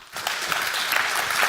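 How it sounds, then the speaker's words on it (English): An audience at a summit awards ceremony breaks into applause, a dense burst of clapping that rises quickly after a brief quiet start and holds steady and fairly close throughout. "Give him a round of applause and say welcome back."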